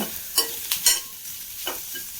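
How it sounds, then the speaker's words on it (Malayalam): Spices and curry leaves fry in a spoonful of coconut oil for prawn curry with ridge gourd, a soft steady sizzle broken by a few quick scrapes of stirring, close by and without talk. "നന്നായി ഇളക്കി മുരിച്ചെടുക്കുക ഒരു നന്നായി ബ്രൗൺ കളറാവാതെ വറുത്തെടുക്കുക"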